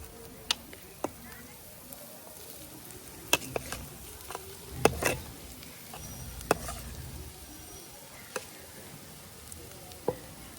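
Grated potatoes fry in a spiced masala, a low, soft sizzle punctuated by sharp clicks and clatters of a utensil against the pan.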